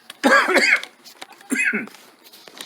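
Two harsh, close coughs, the first a longer fit and the second shorter, with a brief pause between them.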